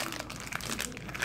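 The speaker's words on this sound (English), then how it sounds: "Let's open this plastic thing." Crinkly plastic packaging around a Perplexus ball being pulled open, a brief burst of close, quiet crackling and crumpling with no talking.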